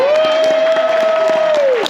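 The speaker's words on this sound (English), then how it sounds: "Let's give a round of applause" An audience claps for the 10th place team at a road rally awards ceremony, with brisk, continuous applause under a sustained whistle-like tone.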